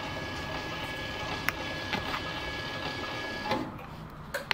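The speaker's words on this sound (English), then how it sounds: "hold the minus button until the gate goes all the way to its closed position." A FAAC gate motor driven by an E124 control board closes a gate with a steady, close whirring hum and a faint constant whine, broken by a few sharp clicks near the end.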